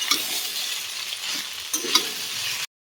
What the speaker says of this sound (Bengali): ভাজাটা বেশ ভালো করে ভেজে নিয়েছি